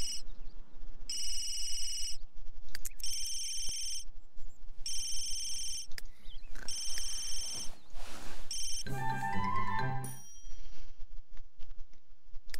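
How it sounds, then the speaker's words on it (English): An electronic phone in The Sims 3 rings in repeated bright, tonal bursts with short gaps, followed by chiming game sounds near the end, with no talk over it. "Is it your phone? That's your phone."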